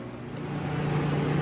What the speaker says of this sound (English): apologies for the noise. There's a heater up here.